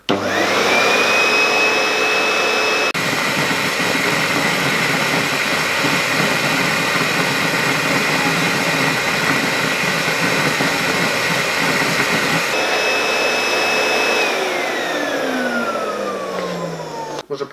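A CONVAC 3000C service vacuum cleaner runs with its hose attached, giving a loud, steady whirring roar with a high motor whine. It starts up, holds for about fifteen seconds, then spins down at the end, with no voices.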